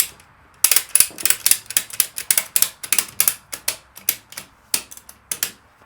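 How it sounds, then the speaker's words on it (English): A retracting ratchet strap mechanism gives a loud, close burst of rapid mechanical clicks and ticks that run in uneven quick rhythm for several seconds. "It all just stays looped right here in this retracting mechanism."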